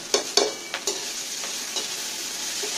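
Onions, green chilies and spring onion leaves frying in a pan, with a few sharp stirring clanks and scrapes over a soft, steady sizzle, close by.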